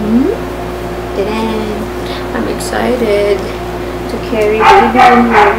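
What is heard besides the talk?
dog barking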